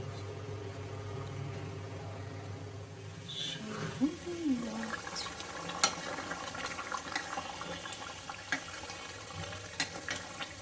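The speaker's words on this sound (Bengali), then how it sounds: "তাই এই পর্যায়ে অল্প পরিমাণে পানি ব্যবহার করছি" A small amount of water pours into a pot of beef bhuna, a steady wash of running liquid over a low kitchen hum, with scattered clinks and taps from the pot.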